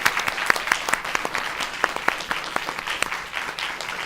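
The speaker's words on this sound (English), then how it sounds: "How about if we all give them a round of applause for their..." Audience at a Commonwealth Court judicial forum clapping steadily, a dense patter of many hands with a few sharp individual claps standing out, moderately loud and without speech.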